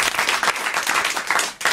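Studio audience applauding on a French television talk show, a dense steady wash of many hands clapping close and loud for the whole stretch with no talk over it.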